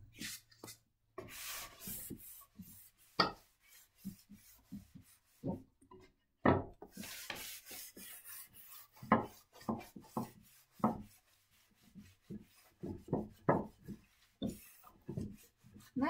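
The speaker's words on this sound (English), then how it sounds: "So I can sand it as much as I want." Hand sanding of a driftwood-style wood finish to pull back a white glaze: repeated short, scratchy rubbing strokes in an uneven rhythm, close and fairly quiet, with brief pauses between bursts.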